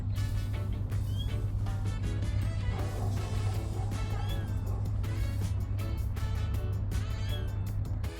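A kitten mews in short, repeated high cries over a steady low hum and passing traffic noise.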